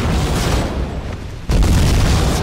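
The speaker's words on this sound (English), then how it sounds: "How many explosions, man? What's happening?" A loud explosion rumbles in the Godfather II PC game, a dense sustained boom that dips briefly before a second heavy blast surges in.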